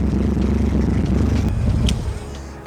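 A slammed Ford Galaxie's engine running rough while being driven, with a loud, steady low rumble throughout that eases off toward the end, plus a couple of brief rattles.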